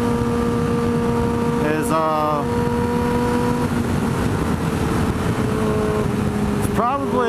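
A motorcycle engine speeds fast through a canyon, a loud steady drone whose pitch climbs and drops sharply at two shifts, with a rider talking over the engine throughout.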